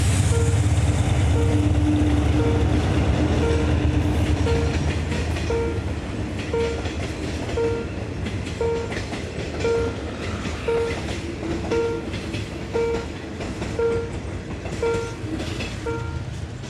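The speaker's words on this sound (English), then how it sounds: "I'll turn the camera back on when the train comes." A passenger train rolls past a small street intersection in Bangkok, a continuous rumble with a regular clickety-clack of wheels over rail joints that fades slightly as it goes by.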